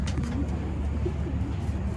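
Taiwan pigeons coo softly and repeatedly at close range, low rolling calls over a faint background hum.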